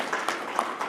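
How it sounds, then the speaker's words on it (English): Applause from a panel-discussion audience welcoming Eric Baptiste of SOCAN: a short, diffuse patter of scattered claps at moderate distance, with no talking over it. "big round of applause for Eric"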